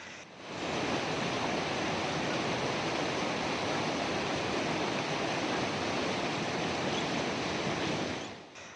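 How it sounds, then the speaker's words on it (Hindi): Cold snowmelt river water rushes steadily in Pahalgam, Kashmir, a continuous, loud, broadband roar of flowing water with no voices, fading in and out at the edges. "बर्फ जब पिघलते हैं तो इन नदियों में वह पानी बहते हुए आता है।"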